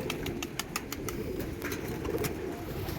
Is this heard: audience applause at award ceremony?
no